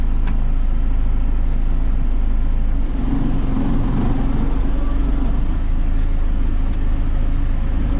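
An old John Deere tractor engine runs steadily close by, a loud continuous low rumble that holds through the whole stretch. There is no talk.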